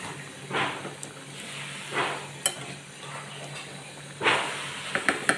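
A pot of simmering chickpea dal and potato curry is stirred as eggs go in, giving a few soft, quiet scraping and sizzling bursts over a low, steady bubbling background.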